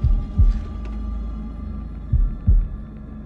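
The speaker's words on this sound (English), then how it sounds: "It's my heartbeat." Heartbeat sound effect from the video game House of Ashes, two pairs of deep, thudding low beats with a steady hum between them, loud and close with no talk.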